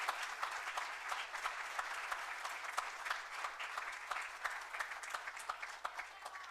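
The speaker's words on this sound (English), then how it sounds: "You can applaud him." Applause from the audience at a Sharonville city council meeting honoring a man's 50 years of city service, steady clapping from a crowd filling the room for several seconds without pause.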